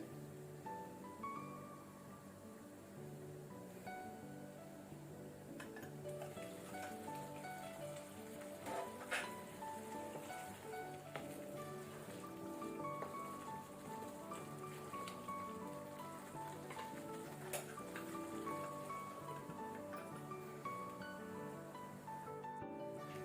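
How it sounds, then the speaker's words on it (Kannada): Masala gravy for paneer butter masala bubbles steadily in a pan over low to medium flame, a soft continuous patter of popping bubbles with no talk, close and quiet throughout. "ಮಸಾಲ ಒಳ್ಳೆ ರೀತಿ ಬಾಯ್ಲ್ ಬಂದಿದೆ, ಕುದಿ ಬಂದಿದೆ"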